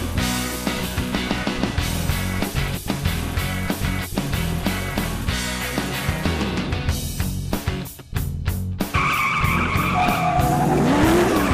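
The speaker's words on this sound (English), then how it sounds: "Robbie Bolger drives a Hitachi Holden VE at all the events, and with his crazy Irish drifting, he is always a crowd pleaser" A Holden VE stunt car drifts at a stunt show, its engine roaring loud and close with long screeching tire skids and revving throughout, ending in a sustained squeal.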